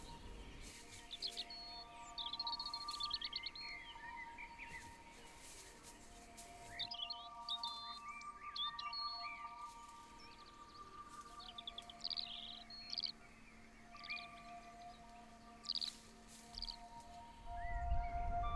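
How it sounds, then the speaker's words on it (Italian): Birds sing in a nature reserve valley, with many chirps and song phrases, some near and some farther off, overlapping and continuing throughout. "In alto nel cielo volarono gli uccelli"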